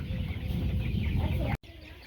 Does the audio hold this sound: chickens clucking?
yes